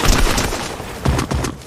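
Gunfire in the video game Fortnite, a quick burst of loud, close shots with thudding booms, then a second cluster of rapid reports.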